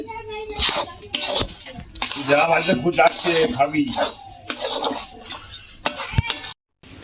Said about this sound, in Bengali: বেশ কিছুক্ষণ নাড়তে হবে।